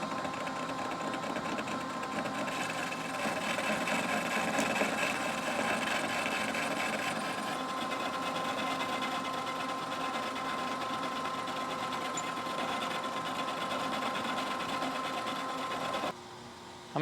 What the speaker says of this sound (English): We're gonna run in reverse and just clean up that weld bead.